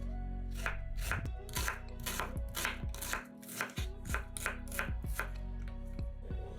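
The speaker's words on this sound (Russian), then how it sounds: "Одну луковицу тоже нарезаем кубиками." Rapid, regular knife chops dicing an onion into cubes on a cutting board, a crisp close series of about twenty strikes with a brief pause midway.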